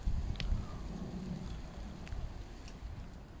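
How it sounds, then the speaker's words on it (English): Steady rain falling outdoors on a golf course in Harold Wood, a constant close hiss with a few soft drip taps, no talk over it. "You can see that rain."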